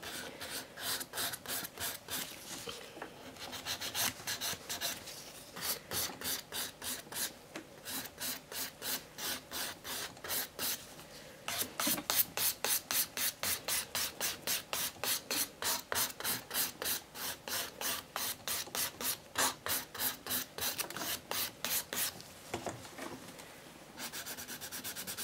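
A file rasps rhythmically over an almond-shaped acrylic nail in fast, even back-and-forth strokes, close up and steady for the whole stretch, with a few brief pauses.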